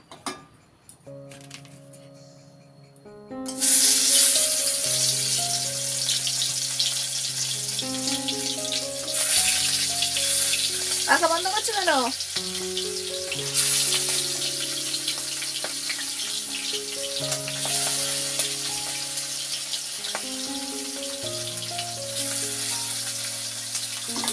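Pangas fish frying in a pan in a clay-built kitchen gives a steady, close hiss that starts after a few seconds and continues under prominent background music.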